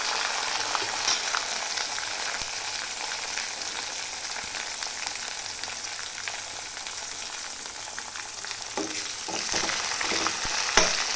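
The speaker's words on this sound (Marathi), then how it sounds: "आता मी त्यामध्ये टाकते टमाटर. हे पण तेलामध्ये छानपैकी फ्राय करून घ्यायचं." Tomatoes frying in hot oil for Marathi-style masoor dal, a steady, close sizzle throughout with occasional stirring scrapes and clinks.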